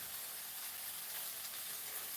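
Potatoes sizzle and hiss steadily in a frying pan, a close, even broadband crackle with no talking.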